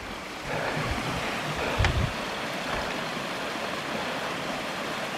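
Stream and cascade near Dark Hollow Falls by a bridge on the Rose River Fire Road in Shenandoah National Park, a steady broadband rush of flowing water with a brief louder splash, heard alone without talk.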